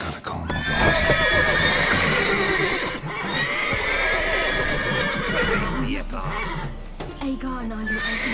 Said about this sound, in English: Gotta calm all the horses.